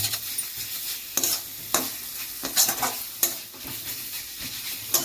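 Salt, onions and tomatoes fry in a pan with a steady sizzle, cut by repeated scraping strokes of a spatula stirring them at a close, moderate level; no talking.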